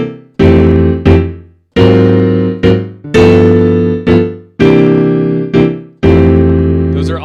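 Jazz piano comps through chords in drop 2 voicings, a series of loud, ringing block chords struck one after another and left to decay, solo piano with no voices.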